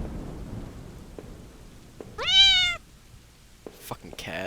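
In the horror game Home, a cat lets out one loud, drawn-out meow during a thunderstorm, with rumbling thunder and steady rain behind it and a second, shorter cry at the end.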